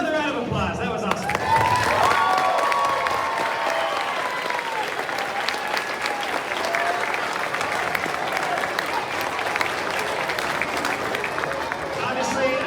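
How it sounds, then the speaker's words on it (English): An audience at a third grade elementary school performance claps loudly and continuously in a dense wave of applause, with cheering voices and a whistle rising above it. "Another round of applause."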